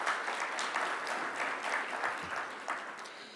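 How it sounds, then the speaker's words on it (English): Audience at a manufacturing awards ceremony applauding the winners, a dense, steady wash of many hands clapping that holds evenly for several seconds. "Let's give them a big, big round of applause"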